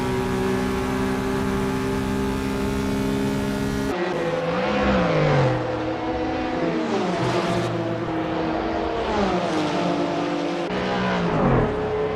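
A Porsche 910/6 race car in Assetto Corsa at 1960s-style Thomson Road racing, its engine revving hard and rising and falling in pitch through repeated gear changes and corners, loud and continuous throughout.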